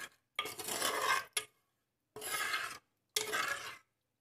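A spoon scrapes and stirs tamarind into thick fish curry in a pan in four separate bursts, with short pauses between, close and fairly clear.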